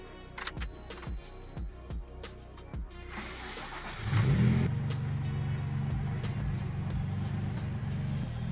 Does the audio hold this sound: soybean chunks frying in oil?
no